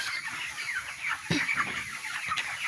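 Chickens cluck repeatedly at close range over a steady bed of farmyard ambience, with a few sharper calls standing out among the chatter.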